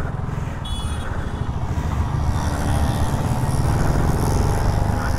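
A BSA Goldstar 650 motorcycle pulls away in first gear, its engine a loud, steady low rumble that grows slightly as it accelerates, with wind noise over it and no talk.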